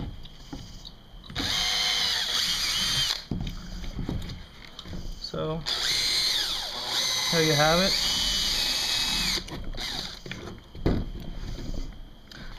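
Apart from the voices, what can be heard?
power drill drilling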